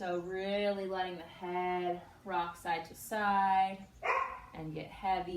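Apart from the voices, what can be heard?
dog named Jet barking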